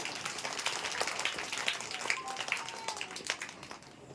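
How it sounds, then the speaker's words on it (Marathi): Crowd applause at a Shiv Jayanti celebration, a steady wash of many hands clapping throughout, fairly even in loudness with a few sharper claps standing out. "एकदा जोरदार टाळ्या होऊन जाऊ द्या"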